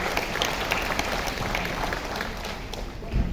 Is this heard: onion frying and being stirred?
no